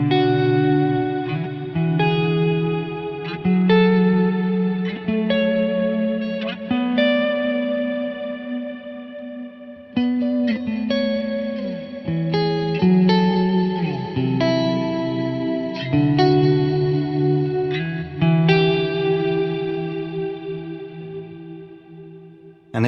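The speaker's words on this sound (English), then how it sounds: "let's go into the Spaces folder of presets and check out the echoes, the big echo verb" Valhalla Room 2.0 reverb on its Big Echo Verb preset with spaces near 80% turns sustained synth-like chords into a loud, continuous wash, each new note blooming into long smeared echoes and tails with no talking.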